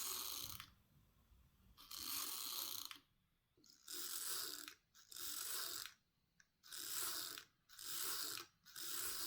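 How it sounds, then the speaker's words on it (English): A 1968 Curta model II mechanical calculator clicks and whirs as its crank is turned repeatedly, about seven separate ratcheting bursts separated by short quiet gaps, close and fairly soft. "I move the carriage again one position and start turning the crank."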